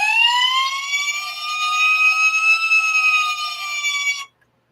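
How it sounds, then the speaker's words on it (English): An electronic siren wails steadily from an Agora Models FDNY Ladder 9 model fire truck, close and loud with a slowly rising and falling pitch, then cuts off abruptly. "I can turn the sirens on."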